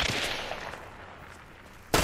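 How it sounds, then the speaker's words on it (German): A gunshot from the video game Hunt: Showdown bursts loud and abrupt at the very end, after a decaying blast and quieter echoing ambience earlier. "Das ist bestimmt sein letzter Schuss"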